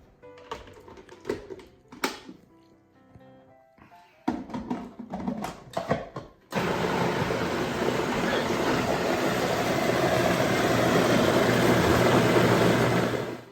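A food processor blending mole coloradito with chicken stock: after some loose clattering and knocks, the motor starts into a loud, steady, continuous whirring roar that runs unbroken to the end.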